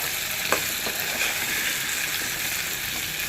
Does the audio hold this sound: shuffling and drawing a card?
no